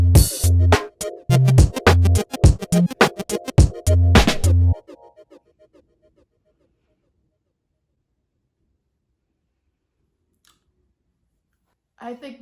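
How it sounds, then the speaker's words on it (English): Electronic music track built from drums, melody, chords, a pad and arpeggios, heard as a loud, choppy rhythmic burst for about five seconds that stops abruptly into near silence with a faint tail. "All together, drums, melody, chords, weird pad thingy, arpeggios."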